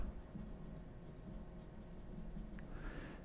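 A treble clef being written up on a board during a beginner music lesson: faint, continuous scratchy strokes of a marker or chalk, quiet and close, with a slightly longer squeaky stroke near the end.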